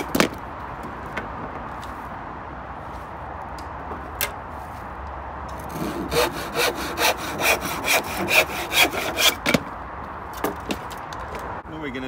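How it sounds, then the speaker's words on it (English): A hand saw cuts through a wooden pallet board for a garden planter, starting with scattered scrapes and then settling into a rapid run of rhythmic back-and-forth strokes, loud and close. "and we'll cut it there."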